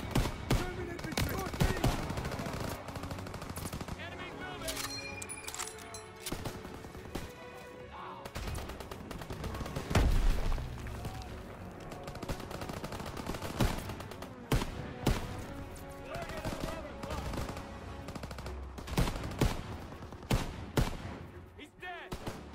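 Machine-gun fire in Call of Duty: WWII, a wartime shooter game: rapid bursts of gunshots and fusillades repeat throughout, loud and close, mixed with explosions and voices shouting.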